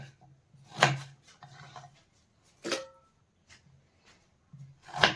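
A knife cuts potato kabab pieces on a board: three crisp chops land a couple of seconds apart, with softer scraping and slicing between them, close and fairly quiet.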